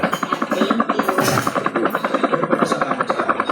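A helicopter's rotor chops in Call of Duty Mobile as a steady rapid thumping that holds loud and continuous throughout, mixed with game sound.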